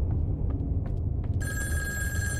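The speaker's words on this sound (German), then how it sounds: "Telefon." An old-style telephone bell rings loudly in the psychological horror game In Sound Mind, a sustained metallic trill cutting in over a low rumbling ambient drone.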